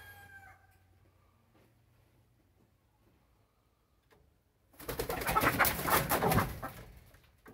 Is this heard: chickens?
yes